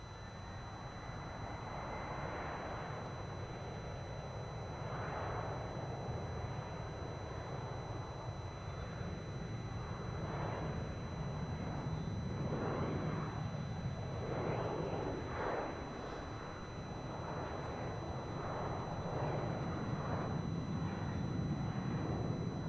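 A Velocity airliner taking off from Melbourne Airport, a distant steady jet engine roar that slowly builds and swells, heard alone as a broad rumble without talk.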